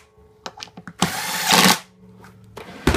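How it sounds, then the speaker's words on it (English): A bench-top pocket hole machine's drill whirs in a loud, steady burst of under a second, preceded by a few short clicks and taps and followed by quieter handling noise. "we're going to do some fast drilling"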